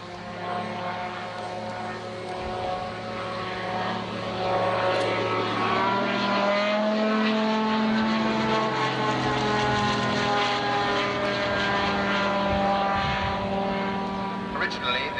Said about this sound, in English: enhance the quietness with which this aircraft is now stealing up from behind you